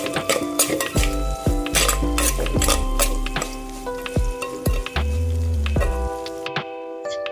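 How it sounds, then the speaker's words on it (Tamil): Shallots and two green chillies frying in a pan for a Sunday-special fish curry, with a steady sizzle under repeated loud clanks of a metal spoon against the pot and scraping stirs. "நல்லா ஃப்ரை பண்ணிக்கோங்க"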